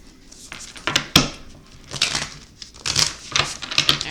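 Papery flicks and soft riffling bursts of cards being shuffled, close up, in a few quick clusters.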